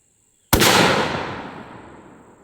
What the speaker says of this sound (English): First shot with the 55 boys